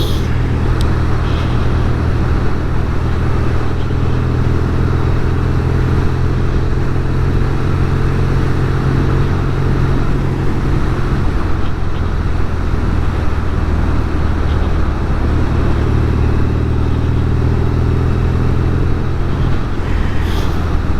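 Steady, close engine drone of a classic British Norton Commando motorcycle running on the road, a continuous low rumble with wind and road noise throughout, no talking.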